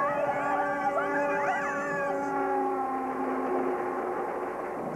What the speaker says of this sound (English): It's a big train coming right